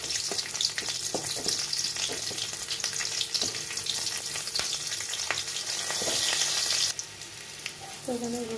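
Chopped green chillies and garlic sizzle steadily in hot oil in a wok, with occasional spoon-stirring clicks and scrapes, a dense close crackle throughout that eases slightly near the end.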